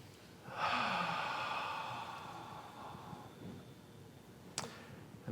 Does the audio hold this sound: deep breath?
yes